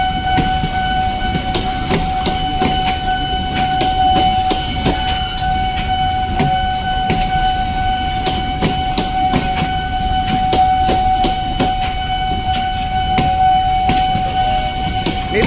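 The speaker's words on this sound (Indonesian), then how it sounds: "Oh ini masuk, parcelnya masuk guys." A 32-ton parcel train wagon rolls in on rusty rails, a loud, steady rumble with repeated metallic clacks and a sustained high ringing squeal throughout, and no talking.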